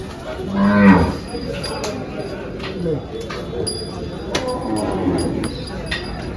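A Gir cow moos loudly nearby near the start, with farmyard background noise and people talking around it at a cattle market in Dhule.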